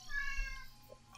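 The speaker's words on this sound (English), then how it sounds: "sorry about the cat meowing" A house cat meows once, a short drawn-out cry sounding fairly close, followed by a brief quiet tail and a faint click at the end.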